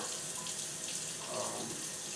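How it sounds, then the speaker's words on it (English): Cold water runs steadily from a tap, a constant soft hiss and splash into a sink with no talking. "I'll turn on a little bit of cold water here"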